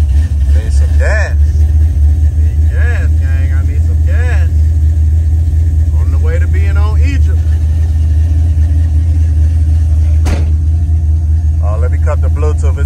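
A 1988 Monte Carlo SS engine idles steadily throughout with a deep, constant low rumble, while a person speaks intermittently over it and a brief sharp click sounds near the end.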